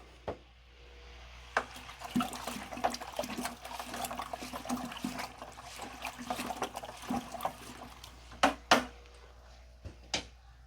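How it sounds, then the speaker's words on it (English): Nutrient mix being stirred in a container of water, a steady swishing slosh with intermittent clunks and knocks of the stirrer against the sides. "Give that a stir."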